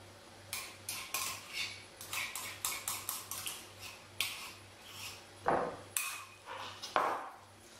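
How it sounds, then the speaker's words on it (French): A whisk clinks against a bowl in a close, steady rhythm, a few strikes each second, while flour, sugar and egg yolks are mixed by hand. Nobody speaks. "on va mélanger la farine, le sucre et les jaunes d'œufs"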